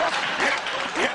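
Studio audience clapping on a comedy talk show, a dense, fairly loud patter of applause filling the short moment, with faint voices mixed in.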